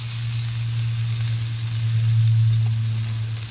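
A burger fries in a cast iron pan over a Trangia camping stove, a steady close sizzle with a low continuous hum from the burner underneath, no talking.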